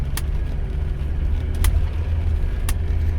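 A 1985 Mercedes 300CD's engine rumbles steadily up close during an attempt at donuts, a low continuous drone with a few brief sharp clicks or squeaks breaking through.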